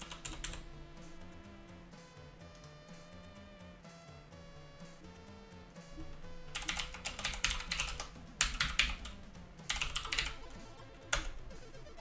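Keys clatter on a BBC Micro computer keyboard, a steady close run of typing that swells into louder, denser bursts of rapid keystrokes toward the end.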